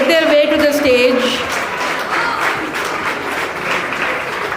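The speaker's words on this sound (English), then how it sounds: "a huge round of applause as they make their way to the stage" Enthusiastic audience applause swells at a young authors' book launch as the honorees head to the stage, a dense wash of clapping that starts loud and eases slightly, with a voice briefly heard near the start.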